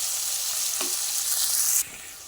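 Onions and tomato sautéing in a pan make a loud, dense hiss of sizzling, with a few soft stirring scrapes, before the sizzle drops suddenly near the end.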